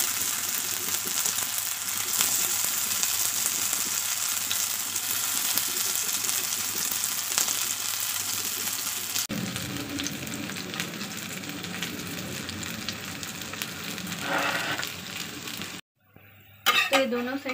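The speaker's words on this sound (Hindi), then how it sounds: "मीडियम फ्लेम में इसे कुक करें।" Soyabean cutlets fry in a pan over a medium flame with a steady, close sizzle, followed by the clink and scrape of a utensil against the pan.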